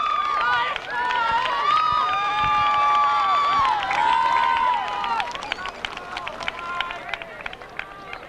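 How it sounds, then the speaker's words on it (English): A crowd applauds a homecoming queen nominee during halftime of a 1998 high school football game. An amplified announcer talks over the first half, then loose clapping and cheering carry on from the stands. "Let's give her a round of applause."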